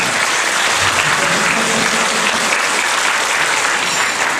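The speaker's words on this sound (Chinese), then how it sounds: "我们给这个朋友掌声鼓励一下。" An audience at a vegetarian-food talk applauds to encourage a first-time vegetarian diner, with dense, steady clapping from many hands that holds at an even level throughout.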